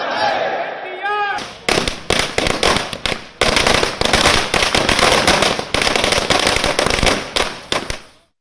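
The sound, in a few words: firecrackers set off at a party celebration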